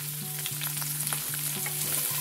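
Chopped onion sizzles steadily in hot mustard oil for a prawn masala curry, a dense continuous frying hiss close up, with a few soft stirring clicks and a low steady hum underneath.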